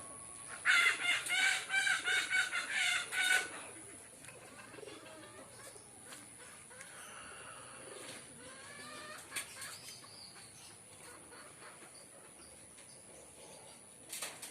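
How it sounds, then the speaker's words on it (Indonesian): Pet pigeons gathered in a tree at a home aviary, with a burst of loud rooster-like crowing and clucking near the start, then softer scattered cooing and bird calls, faint and somewhat distant. "saudara banyak tuh miara burung dara."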